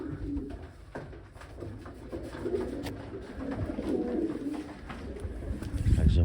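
Pigeons cooing softly and repeatedly in a pigeon loft, low rolling calls over a quiet background, with a louder thump near the end.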